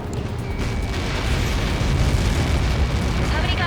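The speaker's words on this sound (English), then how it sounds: "How many got caught in that explosion?" A deep, sustained rumbling explosion from the Ace Combat 7 video game rolls on for several seconds, loud and dense in the low end with no pauses.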